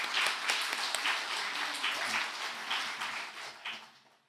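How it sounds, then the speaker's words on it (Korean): Audience applause for a lecturer at a gospel meeting: dense steady clapping from a crowd that holds evenly, then thins and fades out near the end, with no voices over it. "강사님께 다시 한번 감사의 박수 한번"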